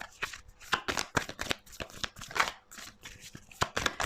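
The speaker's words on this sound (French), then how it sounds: "je vais prendre la dernière carte" Tarot cards being shuffled close up, a quick uneven run of crisp riffling flicks and soft slaps, fairly quiet with no voice over it.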